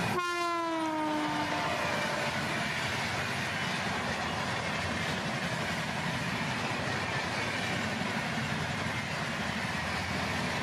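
A high-speed train in India rounds a curve, its horn sounding in the first second before a loud, steady rush of rails and wheels fills the rest, close and continuous.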